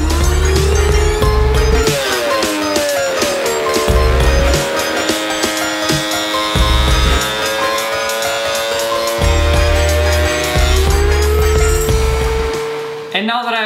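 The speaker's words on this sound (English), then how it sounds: "I'll make it about 1 inch thick using my thickness planer" Thickness planer feeding a walnut board down to about one inch, a loud steady machine whine that shifts pitch as the board passes through the cutter, then cuts off abruptly at the end.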